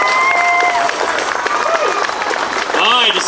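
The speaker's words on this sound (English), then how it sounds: "Let's give Charlie a warm round of applause" Audience applause and cheering at a Joplin Tea Party gathering for a local small business owner, a dense wash of clapping that runs throughout with whoops and voices mixed in.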